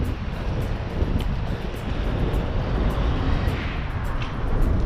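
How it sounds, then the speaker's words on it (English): Under the old bridge in Bratislava, a continuous loud rumbling roar of noise with wind-like buffeting fills the space, steady and unbroken with no talk. "Apparently this bridge is very noisy under here."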